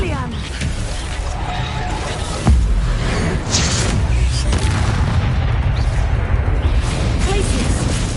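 An Expelliarmus spell blast in Hogwarts Legacy, a sudden booming burst followed by a rumbling crackling tail, amid a loud dueling scene with voices.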